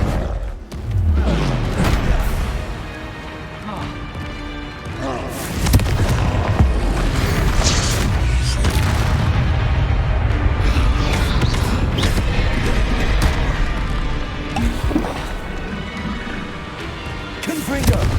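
Repeated Confringo explosive spell blasts in the Hogwarts Legacy video game, loud booming impacts and thuds over a dense wash of game music and mechanical clatter, continuing through the whole stretch.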